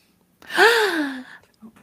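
A single loud, sharp gasp with a rising then falling pitch, up close, followed by a short breathy sound.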